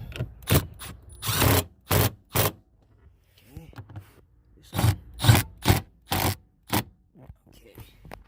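A hand ratchet tightens a front seat bolt in a 2009-2015 Nissan Maxima, with short bursts of close clicking and rasping strokes in irregular rhythm, separated by brief pauses.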